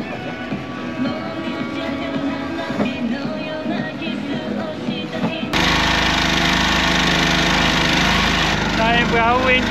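Boat with an outboard engine on a lake at Maribaya near Bandung, Indonesia, a steady droning motor that suddenly grows louder and rougher midway as it revs up, continuous and close.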